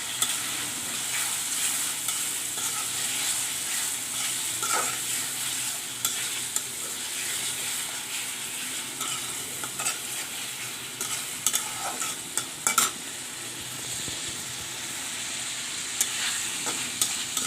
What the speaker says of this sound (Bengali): মাছগুলো একটু রান্না করে নেব।